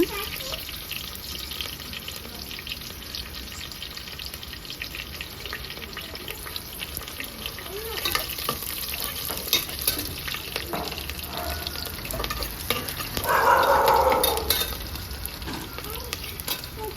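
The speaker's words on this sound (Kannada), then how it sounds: "ಮೊಳಕೆ ಕಾಳು ಚೆನ್ನಾಗಿ ಫ್ರೈ ಆಗಲಿ ಆಯಿಲಲ್ಲಿ" Sprouted gram frying in oil with onions in a home kitchen pan, a steady sizzle running through the clip with occasional stirring scrapes and a louder burst near the end, no voices.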